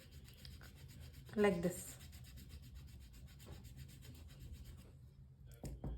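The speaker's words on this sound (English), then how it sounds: "we need to take this sandpaper and this stick, and we have to just simply rub it against this" A charcoal stick is rubbed against sandpaper to make charcoal powder, giving a short burst of gritty scraping followed by quieter rubbing strokes, up close and with little talk.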